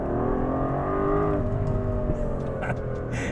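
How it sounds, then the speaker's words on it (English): An Aston Martin DB11 AMR V12 engine revs and holds a smooth, loud howl, pitch shifting as it climbs, with a few light clicks near the end. "when you hear a very nice sounding revving V12"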